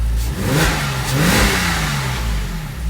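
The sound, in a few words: Porsche Boxster S engine revving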